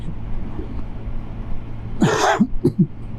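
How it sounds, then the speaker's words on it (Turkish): A short burst of coughing, two or three rough coughs close to the listener, follows a stretch of quiet background hum. "Kusura bakma öksürdüm."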